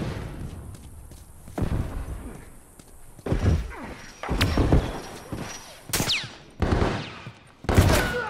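Repeated gunfire and bursts ring out in an online match of The Last of Us Remastered after a smoke bomb is thrown: a string of loud, sharp shots and thuds at uneven intervals, some near and some farther off, amid game noise.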